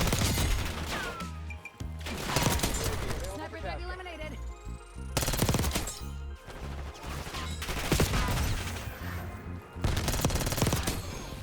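Frag grenades going off in a Call of Duty Black Ops 6 Hardpoint match, loud booming blasts and crackling gunfire in dense bursts, with a player talking over the action.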